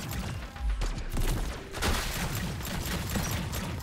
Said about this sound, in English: I'm ready for a glob shot.